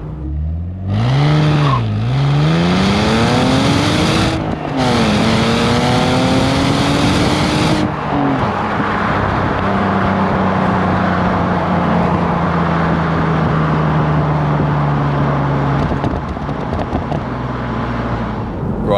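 BMW E85 Z4 3.0i straight-six revving hard and loud inside the cabin, rising and falling in pitch with quick blips during a rev-matched downshift, then settling into a steady cruising drone.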